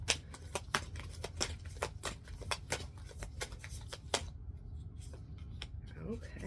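Tarot cards shuffled and drawn in a steady run of crisp flicks and riffles, close and fairly quiet, ending with a soft pause and a card being laid down, with a faint voice in the background.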